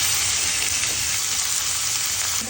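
Oil sizzles loudly and steadily in a pan as chicken is prepared for tacos, a dense continuous hiss close by with no voices.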